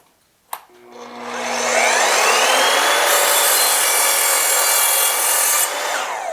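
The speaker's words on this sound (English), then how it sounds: "All right, next let's try a combination bevel and miter cut." An Evolution multi-material sliding miter saw set to a 15-degree miter and 15-degree bevel makes a combination cut in wood: a click, the motor spinning up, then a loud, steady whining cut lasting several seconds before easing off.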